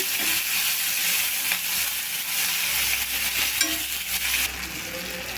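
Onion and tomato pieces fry in a pan with a steady bright sizzle, broken by occasional scrapes and clinks of stirring, and the sizzle eases slightly near the end.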